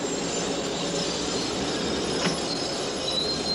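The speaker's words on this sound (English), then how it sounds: "Big old train." A big passenger train with a dome car rolls past, giving a continuous loud rumble with high metallic wheel squeal and no break in the sound.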